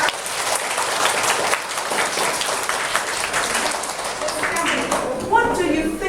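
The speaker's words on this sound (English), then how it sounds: "Give me a big clap." Classroom clapping from students in an English lesson, a broad sustained patter of many hands across the whole stretch, fairly loud and steady, with a brief bright tone near the end.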